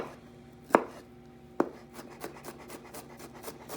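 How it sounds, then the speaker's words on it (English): A kitchen knife mincing a garlic clove on a board, two sharp close chops followed by a quicker series of lighter rhythmic taps. "I'll probably run my knife through it again if I have to, because I wanted a nice fine mince"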